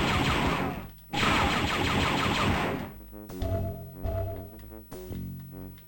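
Turrets fire in the Star Wars Dark Forces game, a dense roaring barrage that cuts out, returns, then turns into separate sharp blasts with brief gaps between them.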